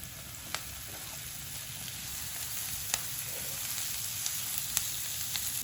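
Peppers sizzle steadily in a hot frying pan during home cooking in Luxor, Egypt, a continuous moderate hiss with a few sharp pops and crackles scattered throughout, no voices over it.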